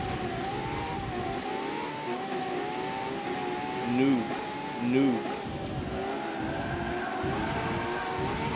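A race car in Forza Motorsport 7 drives around the track, its engine droning steadily and rising through two sharp revving surges, with a player talking over the game audio.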